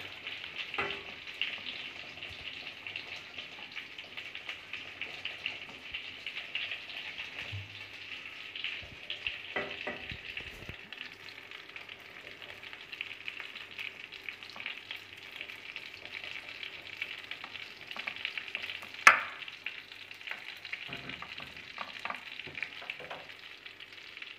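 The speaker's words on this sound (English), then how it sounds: "So I'll put butter here" Butter sizzling and frying steadily in a pan at home, a continuous moderate crackle with a few brief clinks and scrapes, no talking.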